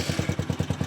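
Motorcycle engine cranked by its electric starter while in gear, a quick run of rhythmic chugging pulses, close and fairly loud, with no voices.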